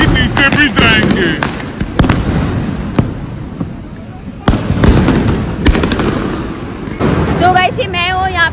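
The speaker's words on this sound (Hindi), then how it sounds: "यहाँ पे हो रही है पटाखड़ी फोड़ धमाकेदार" Diwali firecrackers and fireworks burst in Mumbai: loud sharp cracks and booms go off irregularly, some near and some farther away, over a constant crackling wash, with a voice speaking at the end.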